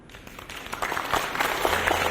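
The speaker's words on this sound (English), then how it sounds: "Let's give them a warm applause." Audience applause welcoming six panelists at a forum, a diffuse wash of clapping that swells from soft to steady and fills the short clip.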